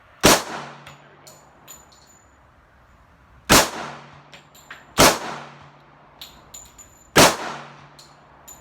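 Four sharp, loud gunshots from an Auto Ordnance 1911 A1 pistol firing ball ammunition at a shooting range, spaced irregularly with echoing tails. A voice speaks briefly at the start.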